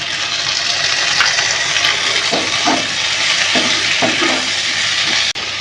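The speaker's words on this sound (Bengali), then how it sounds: "এবার আমি এর মধ্যে টমেটো কুচিগুলো দিয়ে দিচ্ছি" Chopped tomatoes go into a pan of softened eggplant and potatoes frying in oil, making a loud continuous sizzle with a few soft stirring knocks and clinks near the middle, and no talk.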